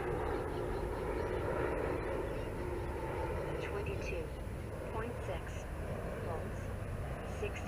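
Freewing F-14 Tomcat RC jet with twin 80mm electric ducted fans held at full throttle, a steady rushing whine heard at a distance outdoors, partly under someone talking.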